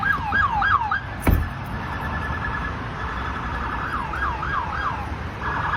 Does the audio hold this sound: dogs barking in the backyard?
no